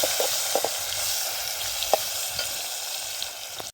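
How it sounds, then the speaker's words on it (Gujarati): Steady, bright sizzling of chopped onions and cumin frying in hot oil, with a few soft stirring clicks, close and continuous. "ડુંગળી થોડીક તેલમાં આપણે પાકવા દઈશું"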